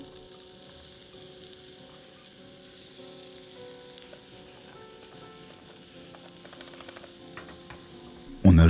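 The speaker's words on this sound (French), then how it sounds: "Dans une poêle, on jette une belle noix de beurre et on vient faire colorer nos pommes." Diced apples fry in a pan of melted butter, giving a steady, quiet sizzle that keeps up throughout with faint crackles, ending in a sudden loud knock.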